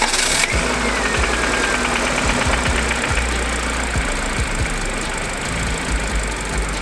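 A Honda Civic engine cranks and catches, then runs steadily at a close, loud idle with a rough, uneven knocking pulse beneath the engine drone.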